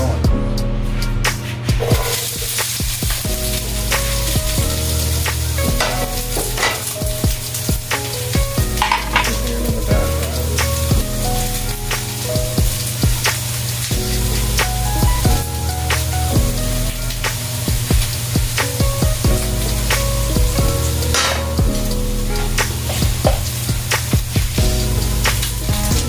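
Six eggs fry in a pan, giving a loud, continuous sizzle and crackle with scattered pops and light stirring or scraping throughout.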